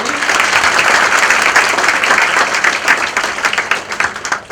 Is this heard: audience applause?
yes